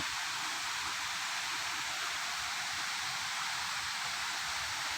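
At Samrong Kiat waterfall, the Devil Waterfall, a dense, unbroken roar of falling water fills the air at an even loudness from start to finish.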